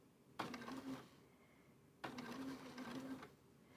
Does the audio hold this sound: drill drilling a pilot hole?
no